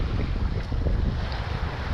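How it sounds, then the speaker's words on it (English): Wind gusting and building wave chop slapping against a singlehanded sailboat in the Georgia Strait, British Columbia, a loud continuous rumbling wash of wind noise and water with no talking. "the chop is building and it's not really representative of the wind"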